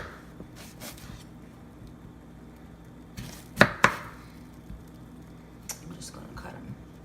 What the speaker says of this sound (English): I'm going to go ahead and cut some lemons up.